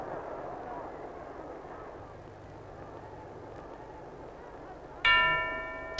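A boxing bell clangs once near the end to close the third round of the Joe Louis vs Max Schmeling fight, a bright ringing strike that decays over a steady crowd murmur.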